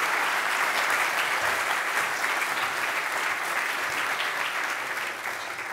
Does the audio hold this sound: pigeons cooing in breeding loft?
no